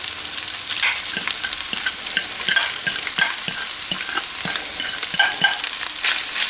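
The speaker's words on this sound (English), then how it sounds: "So when that's got a nice sizzle on it, but it's not, you know, over brown, it's when you start adding your mashed potatoes." Food sizzles steadily in a hot skillet as mashed potatoes are mixed in, constant frying hiss broken by repeated scraping and stirring knocks from tongs, close and clear with no talking.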